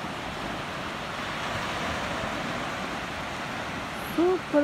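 Sea waves wash steadily at a small cove at Incekum forest camp in Alanya, a broad continuous surf hiss with wind, and a brief voice near the end.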